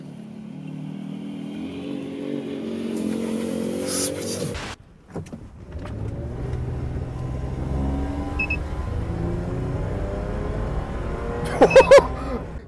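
SsangYong Actyon Sports pickup accelerating hard, its engine droning and rising in pitch through the gears, heard from inside with a short pause at a gear change and a few sharp clicks near the end.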